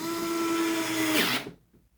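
A Worx 4V cordless screwdriver drives a hinge screw with a steady, close motor whine that rises as the screw seats, then cuts off abruptly into near silence.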